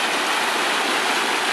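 Water on the Purgatoire River rushes steadily past a thick beaver dam, a loud, continuous broadband roar close by with no pauses and no voices.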